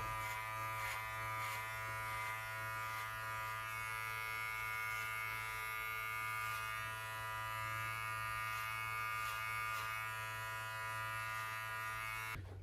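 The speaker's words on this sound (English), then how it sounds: "You can kind of clean it up with just the clipper" Electric hair clippers buzz steadily and close, a continuous motor hum with slight shifts as they run through hair during a home haircut.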